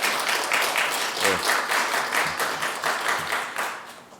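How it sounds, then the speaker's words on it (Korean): A church congregation claps steadily, a warm sustained round of applause with no pause. "다시 한번 큰 박수를 드리겠습니다"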